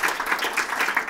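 Audience applause at an ambassador's speech to a national biennial assembly, a steady, fairly close wash of many hands clapping throughout the short moment.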